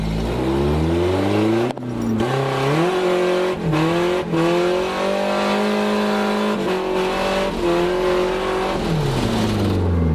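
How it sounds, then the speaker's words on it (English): A KA-engined drift car pulling donuts at a drift event, its engine droning and revving hard with pitch swings and brief cuts as the rear wheels hop violently, loud and close throughout, with no speech. "The wheel hop was actually so violent there that I ended up breaking a tow rod in the rear."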